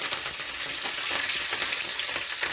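Onions and curry leaves frying with mustard seeds, urad dal and fennel in a pan for mango sambar, a dense, loud, continuous crackling sizzle with no voices.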